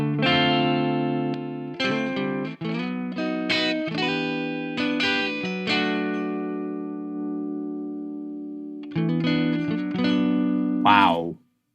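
Clean electric guitar through a Softube Marshall amp plugin, sustained chords and a long ringing note played close and clear, finishing with a quick bent flourish before stopping.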